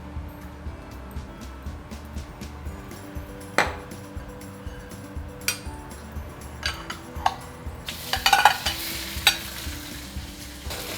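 Pork for Taiwanese fried rice noodles sears in a generous pool of oil in a pan, a low steady sizzle with scattered sharp ticks and pops that grows louder and more crackly toward the end.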